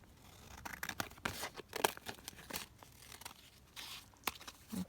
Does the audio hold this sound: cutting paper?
yes